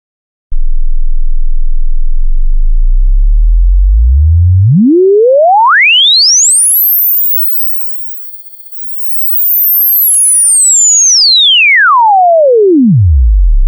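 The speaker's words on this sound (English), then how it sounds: "a sound of a constant volume at a slowly increasing frequency" A pure electronic test tone at constant volume glides steadily upward in pitch until it becomes a thin, piercing whistle, then sweeps back down, heard alone at a constant loudness.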